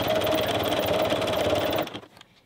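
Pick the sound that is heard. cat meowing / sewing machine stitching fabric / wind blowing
sewing machine stitching fabric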